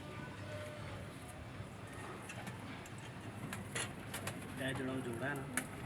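Teddy pigeons coo softly amid a busy outdoor background, with faint voices murmuring and occasional bird calls.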